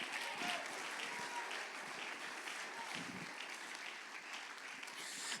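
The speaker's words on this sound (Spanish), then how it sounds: "Dale un aplauso al Señor en esta noche." Congregation at a Saturday night church service clapping together in praise, a continuous even patter of many hands at moderate level that carries through with only slight swells.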